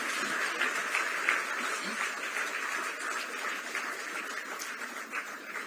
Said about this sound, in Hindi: तालियां लगातार और जोरदार हो।